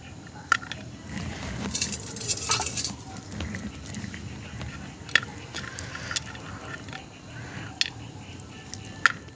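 Peanut halwa is stirred in sugar syrup in a pan at a village cooking spot, with scraping and knocking of a utensil against the pan over a steady low background and a faint voice.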